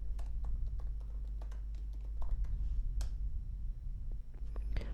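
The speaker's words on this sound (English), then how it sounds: "I will enter my new password here and then type it again." Rapid keystrokes on a computer keyboard while a password is typed, soft irregular clicks close by over a low steady hum, with short pauses between bursts.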